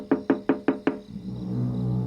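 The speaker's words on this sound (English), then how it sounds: "A while later, someone knocks at her door." Five quick, evenly spaced knocks on a door, close and distinct, followed by a low indoor hum.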